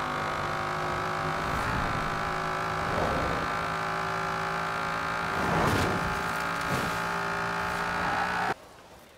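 A Dodge Dart in the video game Forza Horizon 4, tuned to over 1,100 horsepower, with its engine droning steadily and swelling through a few revs before cutting off abruptly at the end.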